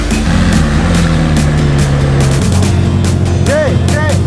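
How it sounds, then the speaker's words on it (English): An engine revs in low, rising pulls, with rumbling mechanical tones and a couple of sharp whooping sweeps near the end; loud and close. "You're revving for no reason."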